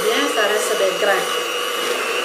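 Electric mixer whirring steadily as it whips shea butter, a continuous buzzing drone with someone talking over it.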